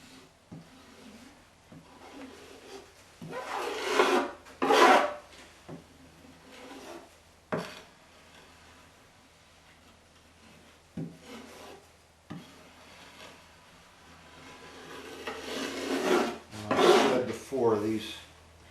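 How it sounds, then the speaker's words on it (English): A putty knife scrapes epoxy off an interior part in short, irregular bursts of rasping strokes, close and moderately loud, separated by quiet pauses and small knocks. "putty knives are the best thing in the world for removing epoxy around."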